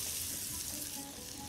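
Onions frying in olive oil in a pan, a dense, steady hiss and crackle heard up close for a short stretch, with no voices.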